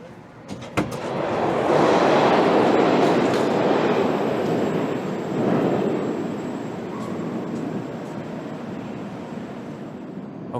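A Moscow metro train moves through Alekseyevskaya station, its loud rumbling roar building as it nears the platform, then easing off with squeals and rattling wheel clatter as it slows.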